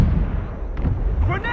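A frag grenade detonates in the Socom 4 shooter game, a heavy, rumbling low boom filling the brief moment, with a faint voice surfacing near the end.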